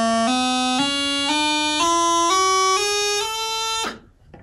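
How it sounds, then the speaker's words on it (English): A bagpipe practice chanter, blown steadily and correctly, climbs its whole scale in even, sustained, reedy steps, clear and close, before stopping abruptly. "So that's what a reasonable sound from a practice chanter should sound like."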